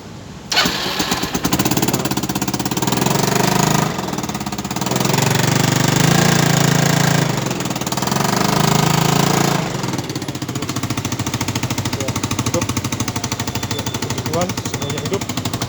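A Yamaha Nuvo scooter engine runs after being started, giving a steady, rough mechanical chatter with loud surging stretches that level off into a continuous idle, and a voice speaks over it.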